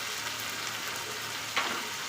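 Onion paste sizzles in a hot frying pan during Bengali village cooking of ridge gourd with small fish, a steady broadband hiss with a faint clink near the end.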